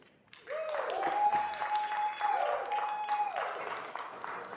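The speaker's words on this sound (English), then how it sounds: "I'd ask that you please hold your applause until after the speakers are finished" Audience members applaud at a city council meeting, a steady wash of clapping that swells and holds for several seconds while a voice carries over it.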